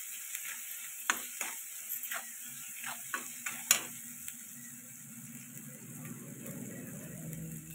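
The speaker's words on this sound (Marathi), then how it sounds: "कढईमध्ये मस्तपैकी आहे अंडा राईस बनवत आहे." Egg rice cooking in a wok with a spatula scraping and clinking against the pan in a series of sharp taps, then a soft sizzle rising near the end; quiet and close with no talk.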